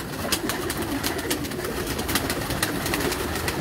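Pearl-marked pigeons in a breeding cage coo softly and repeatedly, their low calls blending with a steady background hiss and no voices.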